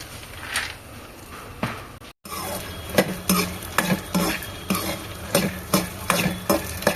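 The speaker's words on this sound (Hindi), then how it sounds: "ये मैं भून रही हूँ मखाना थोड़ा सा।" Makhana (fox nuts) being roasted and stirred in a pan, repeated sharp scraping and rattling strokes in a fairly quick rhythm over a light sizzle, close and without talk.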